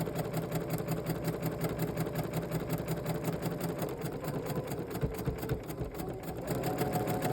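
Sewing machine stitching steadily across a quilt block seam, a continuous loud mechanical hum and rapid needle rhythm with no pop where the fabric thickens, heard alone.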